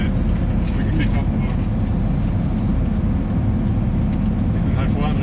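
An expedition truck's base vehicle drives and turns right, its engine giving a steady, loud, close rumble with road noise throughout, while people talk over it.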